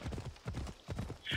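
Horse hooves clip-clopping in the video game Assassin's Creed Odyssey, a steady run of close, rhythmic hoofbeats for a moment with a brief snort or whinny near the end.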